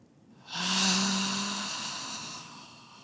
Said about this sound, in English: Taking a few deep inhales and exhales.